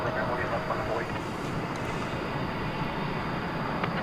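A jet airliner rumbles steadily down runway 18 Left at DFW on takeoff at night, a broad continuous roar from a distance with faint voices mixed in.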